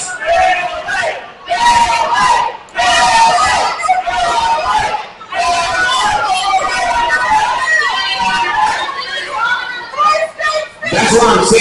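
A wrestling arena crowd at an MCW tag team championship event roars and yells loudly throughout, a dense wall of cheering voices with brief dips and surges.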